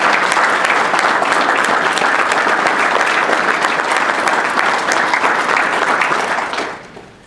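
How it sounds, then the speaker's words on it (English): Audience at a commissioning ceremony breaks into loud, dense, sustained applause that holds steady for several seconds, then tapers off quickly at the end. "can we give a round of applause to that young lady in that"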